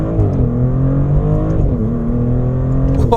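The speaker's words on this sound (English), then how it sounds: "I'm on the Corsa mode and I'm going to have a launch." A Maserati GranTurismo Trofeo launches hard in Corsa mode, its engine roaring loud and close as the revs climb in rising sweeps through quick gear changes, with no talk over it.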